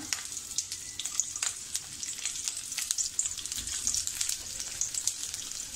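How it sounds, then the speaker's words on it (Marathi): Garlic crackles in hot oil in a pan for Chicken Kolhapuri, a bright continuous sizzle dotted with quick popping spatters, close and fairly loud, with no voices. "आपलं तेल तापलं आहे. त्याच्यामध्ये आपण या लसूण टाकूया."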